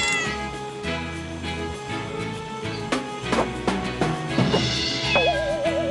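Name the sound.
cat meowing up a tree in PAW Patrol Rescue World video game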